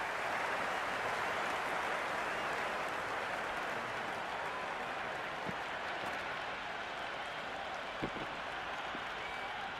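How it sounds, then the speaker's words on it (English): A stadium crowd cheers and applauds in the cricket video game Cricket 26 during an IPL match between Mumbai and Hyderabad, a dense, steady roar that holds for the full stretch with a couple of small knocks. "The crowd is electric right now."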